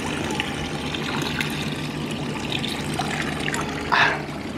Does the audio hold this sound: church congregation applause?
no